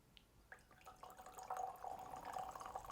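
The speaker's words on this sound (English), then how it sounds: "It certainly is noisier to pour with the elk." Wheated bourbon poured through an elk-shaped bottle pourer, a faint trickle and drip that thickens into a steady gurgling stream, close by and quiet.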